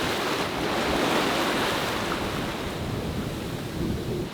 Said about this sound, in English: It's been a very windy, exhausting day. The waves are kicking our butts.